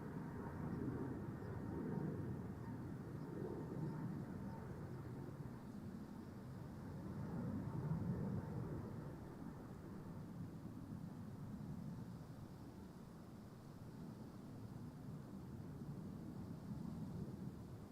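A Finnair airliner taxis at Amsterdam Schiphol airport, heard as a faint, distant low rumble that swells and fades gently, with no other sounds standing out.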